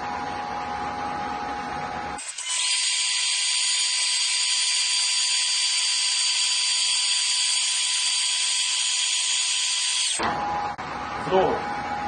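A Kress FME800 router spindle on a console milling machine runs a program at reduced speed, giving a loud, steady high-pitched whine that holds for about eight seconds before cutting off, with quieter mechanical noise before and after.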